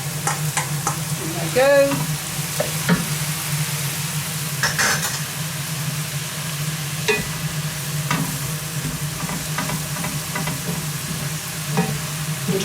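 Leeks and mushrooms fry in a pan while being stirred, a steady sizzle broken by scraping utensil strokes and occasional clinks; a voice speaks briefly near the start.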